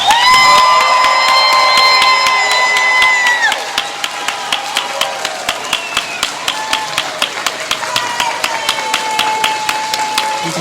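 A large crowd at a 2021 college graduation ceremony cheers and whoops loudly, then settles into sustained rhythmic applause with steady clapping.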